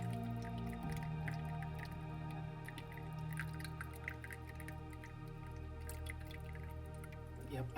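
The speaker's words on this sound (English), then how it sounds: "And it's all from that water fountain." Water from a small indoor fountain trickles and drips steadily inside a plant-filled greenhouse cabinet, a soft, continuous babble with scattered close drops and no talking.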